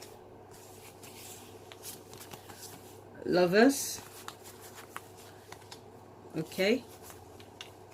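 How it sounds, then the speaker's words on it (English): Tarot cards are shuffled in two quick riffling bursts, close and crisp, each about half a second, with a quiet pause between them and a voice speaking briefly nearby. "so we're going to shuffle and see which ones comes out"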